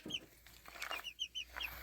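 Ornamental chickens cluck in short, close bursts in a coop, several quick calls in a row against a quiet background.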